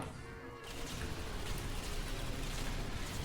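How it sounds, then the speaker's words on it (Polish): Loud, sustained rumbling blast from a custom-map level in the video game Portal 2, filling the whole few seconds with dense broadband noise after a brief quieter start, with no talk over it. "Oj, oj, ale eksplozja."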